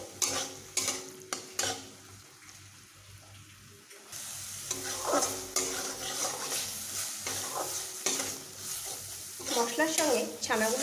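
Spices and chhana (paneer) being sautéed in a pan, with spoon scrapes and knocks against the pan at first, then steady sizzling and stirring, close by, with a voice speaking at times.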